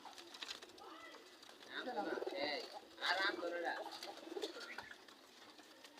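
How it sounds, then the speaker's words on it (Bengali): A neighbour's pigeon, just caught, coos in low, rolling bursts close by. The calls swell in the middle and again later, mixed with nearby voices talking. "ভাই কবুতর ধরলাম না"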